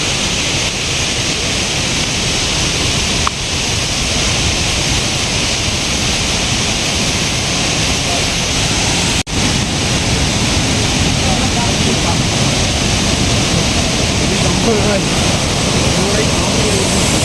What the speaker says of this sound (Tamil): பாருங்கள் ஃப்ரெண்ட்ஸ் எவ்வளோ பெரிய அருவின்னு